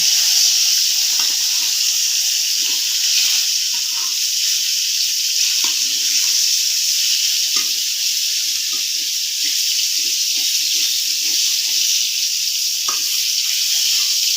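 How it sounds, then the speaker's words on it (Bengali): Tilapia fish fry in hot oil in a pan, a loud, steady sizzle that runs throughout with faint scattered clinks and stirring noises beneath it. "এখন আমি মাছগুলো একটু উল্টে দেবো"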